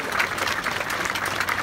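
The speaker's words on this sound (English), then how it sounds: "Big round of applause" An audience claps steadily at an outdoor mock crash demonstration attended by fire, highway patrol, sheriff and ambulance crews, the dense, even applause holding for the whole short stretch with no talking.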